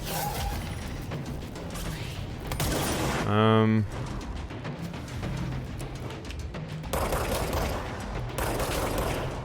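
Gunfire in the video game Control, fired while going for headshots, with dense rapid shots and mechanical weapon clatter over a busy game soundscape, a loud harmonic burst near the middle.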